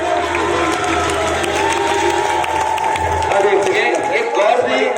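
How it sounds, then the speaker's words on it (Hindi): An audience at a debate claps and cheers, a dense steady wash of applause and crowd noise throughout, loud and close, with voices mixed in. "ताली बजा मेरे लिए।"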